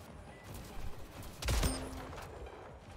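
Gunfire in the Splitgate video game on the Contamination Helix map, a sharp burst of shots near the middle over a low background rumble, briefly loud and then fading.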